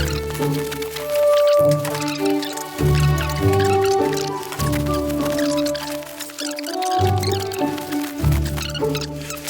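Wet squishing and smearing as a squirted product is lathered and spread by hand over a horse's coat, soft, close rhythmic strokes with short pauses between them.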